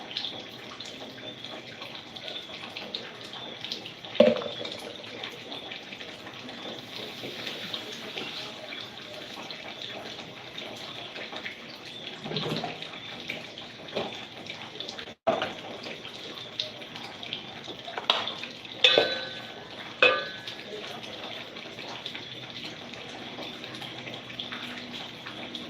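Water runs steadily from a kitchen tap while dinner of rice, beans and cabbage is prepared, a continuous close splashing hiss with a few clunks and knocks over it.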